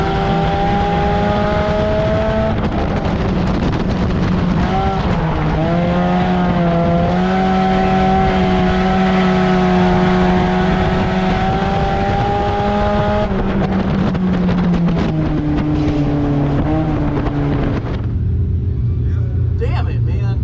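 Race cars running together on an oval track near the final lap, a loud sustained engine drone with shifting pitch that dips and rises through the turns, continuous over the whole stretch with no voices.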